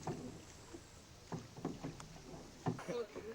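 Rowing boat pushing through the water during a race on a lake loop, soft irregular splashes and knocks of oars at close range over faint wind, fairly quiet overall.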